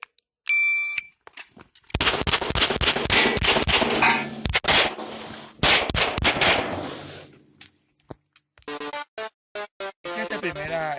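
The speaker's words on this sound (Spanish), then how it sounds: "lo que hice fue disparar con mucha rapidez sin importar mucho la precisión" Rapid bursts of gunfire ring out at a shooting demonstration, a dense string of loud cracks fired in quick succession, with beeping electronic tones before and after the volley.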